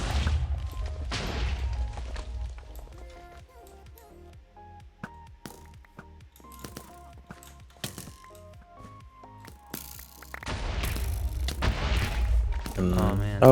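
TNT cannon explosions in Minecraft during a Race For Wool tournament match, heard as a string of sharp booms and mechanical clicks, with louder rumbling blasts near the start and again at the end, and voices talking over them.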